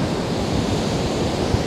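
Stormy sea surf pounds the shore at Anapa in a continuous loud roar of breaking waves and wind, with no voices.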